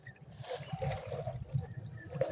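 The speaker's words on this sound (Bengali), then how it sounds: "সাঁতার কাটা" Water in a village pond splashes and sloshes softly in quick, uneven strokes as someone swims, fairly close and faint.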